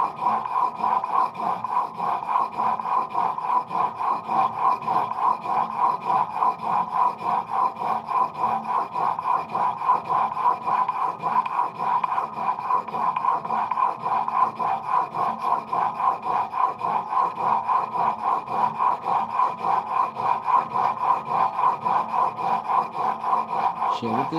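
A blade is sharpened on a stone in a honing guide, a steady rhythmic scraping stroke repeated continuously and evenly at close range.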